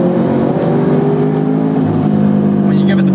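A turbocharged first-generation Subaru BRZ accelerates hard, its engine a loud, steady droning roar with rising harmonic tones heard from inside the car, continuous for a few seconds.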